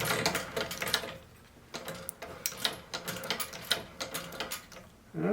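A Singer shoe patch sewing machine stitches with stout upholstery thread, giving bursts of rapid mechanical clatter broken by short pauses, close and fairly loud, with no talking.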